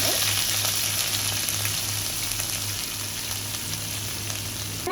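Mustard seeds and moong dal fry in hot coconut oil, giving a steady, close sizzling hiss that runs without a break.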